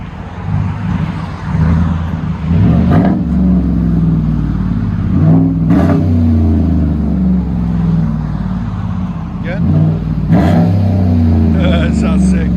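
A Chevy/GMC 5.3L V8 with an aftermarket Magnaflow, Cherry Bomb or Vibrant muffler revving, a loud, deep, close exhaust rumble with several rises in pitch, with people talking over it.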